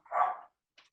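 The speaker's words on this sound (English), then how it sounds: "Don't worry about the dog." A single sharp dog bark sounds fairly close, followed by a brief fainter yip or scuffle and then silence.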